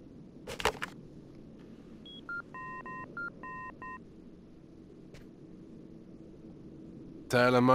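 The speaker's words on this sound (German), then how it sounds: "Ich rufe Tyler an." Telephone dialing in the video game Fahrenheit: a brief clatter, then a quick series of short electronic keypad tones in two bursts, fairly quiet over a low hum, before a voice speaks at the end.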